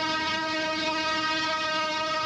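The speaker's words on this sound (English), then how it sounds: "It's the CTA Snowfighter out for a test run today," A CTA Snowfighter, a snow-bladed Chicago transit train out on a winter test run, sounds a loud, steady horn blast that holds for the full couple of seconds over a rumbling rail background.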